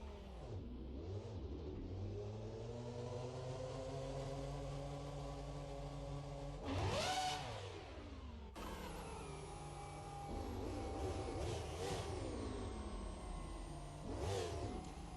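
An F1 car engine in the Assetto Corsa racing game on the LA Canyons map revs up and down repeatedly, rising and falling in high pitched whines with a few sharp peaks, loud and continuous, with no talking.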